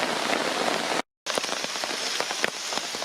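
Rain falls steadily at night onto a small tarp, a continuous close hiss and patter that cuts out completely for a fraction of a second before resuming.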